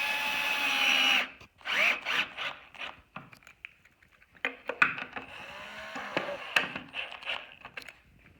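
A power drill drives 1-inch screws into wood while a fireplace mantel is built, a long whirring run followed by several short bursts and bumps of screw driving, close and loud.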